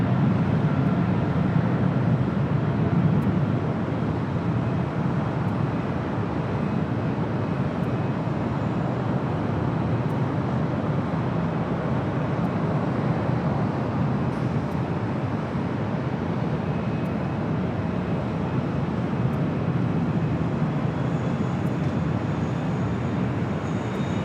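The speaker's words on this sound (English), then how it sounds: "The 777 freighter now rolling it down at 25 right." A Boeing 777 freighter rolls down runway 25R at LAX, heard as a loud, steady broadband jet roar that holds evenly throughout with no voices over it.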